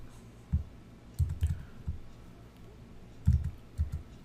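A computer mouse clicks while working in Photoshop, a handful of crisp close taps, some single and some in quick doubles, spaced irregularly over quiet room tone.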